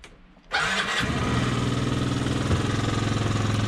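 A Honda Dio moped engine starting outdoors in about minus five degrees of cold, a brief cranking that catches after half a second and settles into a loud, steady, buzzing idle close by.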